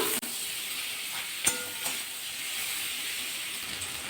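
Capsicum and onion frying in a pan as tomatoes go in, giving a steady, close sizzling hiss with a faint click partway through and no talking.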